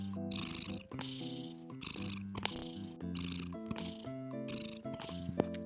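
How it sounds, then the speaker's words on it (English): Pet cat making a series of drawn-out, tonal meows and chirping calls in a regular sequence of about six or seven close, clear vocalizations, heard alone without talk. "My cat wants to talk again."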